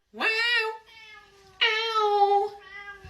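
A cat meows twice in long, loud, drawn-out calls, each rising then sustained, with a brief softer tail between them and a voice speaking faintly.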